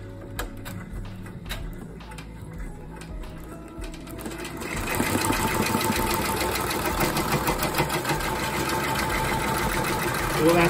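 An embroidery machine sews a tacking stitch to hold a pre-made patch in place, its fast steady mechanical chatter running close and loud throughout and growing busier partway through.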